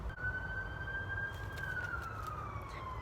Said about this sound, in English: Now we have a siren.